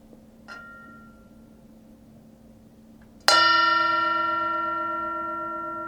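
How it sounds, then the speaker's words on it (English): A meditation bell is struck once during a Sunday morning sangha service. It rings out loud and clear with a long, slowly fading shimmer, after a faint small ping earlier in the quiet. "I'll do the bell one more time."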